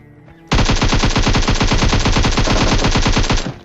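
Automatic gunfire in a PUBG fight at Pochinki, with one loud, close, rapid burst that starts suddenly and rattles on steadily for about three seconds before stopping, with no talking.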